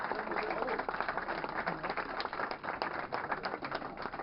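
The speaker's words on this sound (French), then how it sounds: "je voudrais qu'on les applaudisse vraiment fortement" A crowd at a street fishing competition event gives the cooks a sustained round of applause, many hands clapping evenly and continuously at moderate volume.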